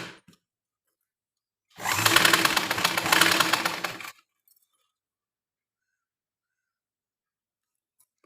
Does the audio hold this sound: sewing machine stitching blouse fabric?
yes